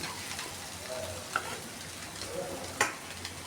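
Chowmein noodles with chicken mince, prawns and scrambled egg stir-fried over high flame, a steady close sizzle with two sharp scraping clanks of a spatula against the pan.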